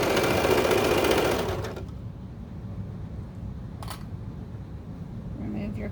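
Serger sewing machine stitching the stretched waistband of baby bummies, a loud, steady, close mechanical whir that stops abruptly after about a second and a half, leaving quiet room noise with a brief click later.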